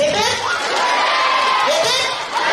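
A school crowd of children at a Founder's Day function roars a drawn-out unison 'hooray', rising and falling in two loud swells of massed young voices.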